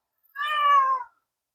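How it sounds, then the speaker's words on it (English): A single clear meow from a pet cat, close and fairly loud, lasting under a second with a slight falling pitch, alone in silence. "This is my cat."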